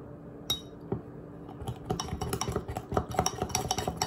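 A fork stirs mug cake batter inside a ceramic mug, giving repeated close, bright clinks and scrapes that speed up into a steady, busy mixing rhythm.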